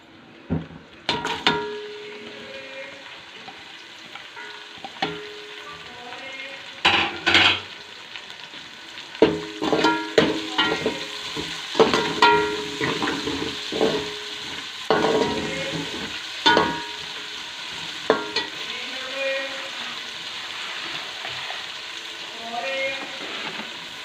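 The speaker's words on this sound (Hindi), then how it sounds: "अब इसके अंदर हमने एक बड़ी साइज़ की प्याज ली है, उसको हम डालेंगे और अच्छे से फ्राई कर लेंगे।" Onion frying in a pan with cumin and potatoes, a soft steady sizzle broken by repeated loud scraping stirs of a spatula, close by, with a person talking over it at times.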